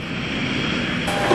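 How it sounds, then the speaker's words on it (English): V-22 Osprey tilt-rotor aircraft with its engines mounted in tilting wingtip nacelles, giving a steady, loud broadband roar and hum that holds level throughout, close and unbroken, with no voices. "The V-22 has its engines on its wingtips."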